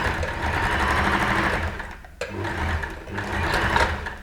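A sewing machine stitches a dress seam with a steady, rapid mechanical whirr. The stitching pauses briefly near the middle, then resumes for backstitching, heard close and loud with no talking.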